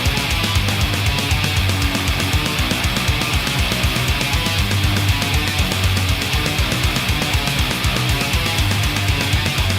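Dense, loud melodic death metal with fast pounding drums, distorted guitars and a steady driving low end, continuous throughout with no vocals standing out.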